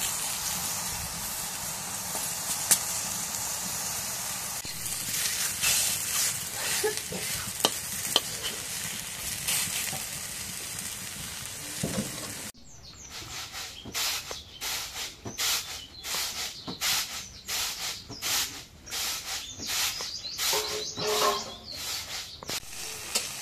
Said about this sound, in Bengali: এখন তেল গরম হয়ে গেছে, এখন বেগুন গুলো দিয়ে দিই।